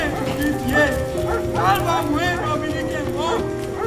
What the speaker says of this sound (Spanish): le pareció oír tropel de caballos, voces de mando y tiros